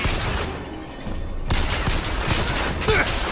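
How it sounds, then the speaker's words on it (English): Enemy gunfire crackles in Bioshock Infinite, a dense burst of shots from distant shooters with sharp cracks and booms, loud and continuous over a short stretch with no talk. "Oh wow, they're shooting from here, but they're not coming forward"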